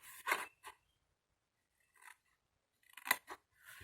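Scissors snip straight through paper up to a fold on a craft storage box for washi tape, a few quick crisp cuts separated by silence, close and fairly quiet, with nobody talking.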